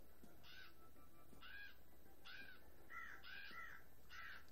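A crow caws repeatedly in a video game, five harsh calls spaced about a second apart, clear over a quiet background hum.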